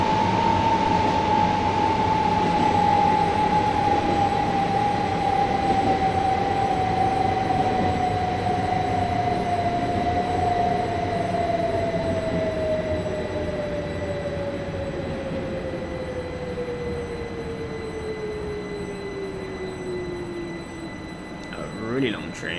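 A Thameslink train in Train Simulator 2018 rolls past with a steady rumble and a long whining tone that slowly falls in pitch, ending with a brief clatter.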